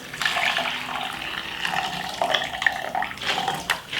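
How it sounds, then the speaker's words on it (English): Hot water pours into a cup for beetroot tea, a steady splashing, gurgling stream heard up close at moderate volume with small fluctuations throughout. "I'm going to pour some hot water inside of it now."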